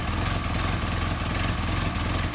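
A Mercedes 190SL engine on Solex carburetors idles steadily and loudly close by, a continuous even rumble with no talk.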